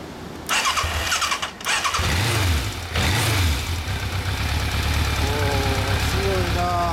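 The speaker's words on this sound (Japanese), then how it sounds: "エンジン音聞かせてもらえますか" A 1986 Yamaha FZX750 motorcycle engine cranks twice, fires up with a couple of revs, then settles into a steady throbbing idle while people talk nearby.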